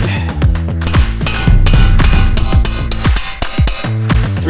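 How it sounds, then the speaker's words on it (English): Repeated loud metallic clangs ring out in quick succession, each strike of a three-pound hammer leaving a bright, resonant ring on a car's heavy metal brake rotor. "3-pound hammer, your best friend."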